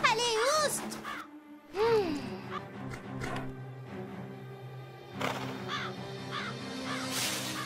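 A crow in an animated horse-ranch cartoon caws harshly a few times, the calls mixed with excited voices talking over the scene.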